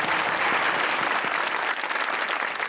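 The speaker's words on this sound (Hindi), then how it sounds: "तालियां होनी चाहिए ज़ीशान के लिए" A studio audience claps for the game winner on a comedy show, a steady burst of applause that thins slightly toward the end.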